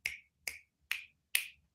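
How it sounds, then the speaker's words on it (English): Four crisp finger snaps in an even, rhythmic sequence, each a sharp close click with a quick decay and silence between them. "Another thing is like clapping or rhythmic snapping."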